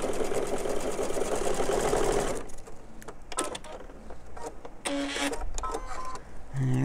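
A home sewing machine stitches pieced quilt fabric with a steady, loud whirring run for a couple of seconds, then stops and gives way to short bursts of stitching, handling clicks and fabric rustle.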